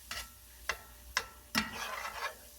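Spoon stirring a copycat Hamburger Helper rice mixture in a pan: four distinct scraping knocks about half a second apart, followed by a longer scraping swirl, close and clear.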